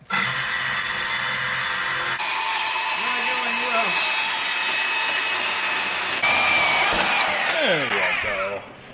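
A reciprocating saw fitted with a wood blade cuts steadily and loudly for nearly the whole stretch, a dense buzzing rasp with occasional squealing tones, then stops abruptly at the end.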